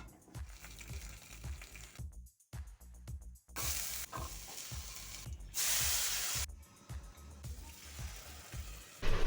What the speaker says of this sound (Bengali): আর ওদিকে মাছগুলো ভেজে নিই